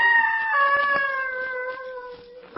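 An eerie, wavering, howl-like cry drifts from deep in the woods in a radio drama, a single sustained gliding wail that slowly falls in pitch, heard alone against a quiet background.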